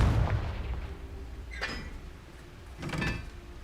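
Fire-spell blasts from the Confringo curse in the Hogwarts Legacy video game: a low rumbling boom at the start, then two brighter whooshing bursts spaced apart, moderately loud with no talking.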